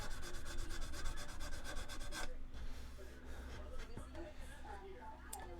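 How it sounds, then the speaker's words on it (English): Hand sanding of a plastic model kit saucer, quick rhythmic rubbing strokes for about two seconds, then softer scattered scraping while a person talks. "If anybody wants to sand for me, I'd be more than happy to let you do it."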